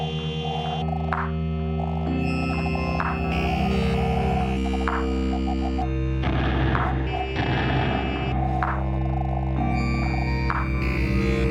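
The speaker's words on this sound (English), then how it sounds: "you create all those sounds from a pure sine wave" Synthesizer tones shaped from a pure sine wave, layered sustained pitches and pulsing, warbling sequences that shift in timbre, with a buzzy, gritty passage in the middle, loud and alone.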